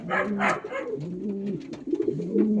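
Several pigeons coo in low, repeated rolling calls close by in a loft where squabs are being raised under older birds, the cooing continuing steadily with slight overlaps.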